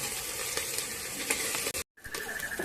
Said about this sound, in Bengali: এটা আমরা ফ্রাই করে নিই।